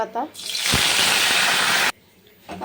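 Curry leaves hitting hot oil alongside dry red chilli, a sudden loud sizzling burst that holds steady for over a second and then cuts off sharply, with a voice speaking just before and after.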